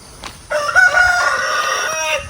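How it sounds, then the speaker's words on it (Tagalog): A rooster crows once up close, a loud, clear cock-a-doodle-doo in the open with no talk over it. "Yung mga manok nila oh."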